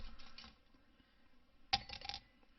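A single ice cube drops into a glass for a pour of Ardbeg 10 scotch, one sharp clink partway through, near and fairly quiet, with no talk.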